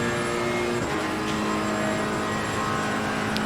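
Ferrari race car engine in Assetto Corsa Competizione, a steady loud drone with a strong tonal whine that shifts pitch near the start as the car runs on track, continuous without talk.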